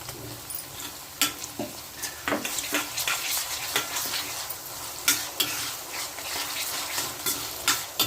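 Ginger garlic paste with turmeric fries in a pan while being stirred, a soft bed of sizzling broken by frequent scraping and clacking strokes of the spoon, close and moderately loud with no talk.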